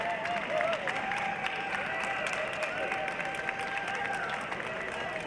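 Spectators applaud steadily at an AKC all-breed puppy and junior stakes dog show while an announcer's voice carries over the clapping, which stays constant at a moderate level.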